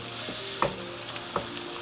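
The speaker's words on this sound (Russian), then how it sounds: "У нас пошел запах чеснока, я включаю газ." Garlic fries in a pot on a gas stove, giving a soft steady sizzle with two sharper clinks of a utensil against the pot.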